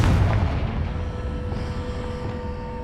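A Confringo blasting spell from Hogwarts Legacy detonates in one deep, booming explosion right at the start, then its low rumble slowly fades away.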